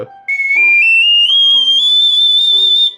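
A triple ocarina is played in its very high third chamber, giving piercing, loud whistle-like tones that step upward through several sustained notes with no talking.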